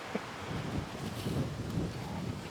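Steady, moderately loud outdoor wind buffets and rumbles against the microphone throughout, a continuous gusty roar with no clear voices, around a battery-operated ASMOKE Essential pellet grill.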